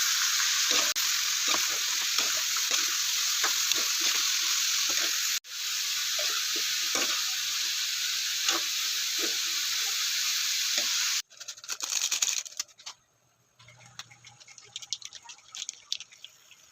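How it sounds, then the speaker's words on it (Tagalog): Ground pork frying with broccoli in a pan, a loud steady sizzle broken by stirring clatter, then a softer, patchier fizz toward the end with no talk. "Kailangan natin ipa-brown ng gusto ang ating giniling guys para masarap siya."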